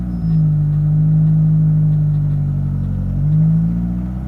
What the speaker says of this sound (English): You can really hear that fuel pump working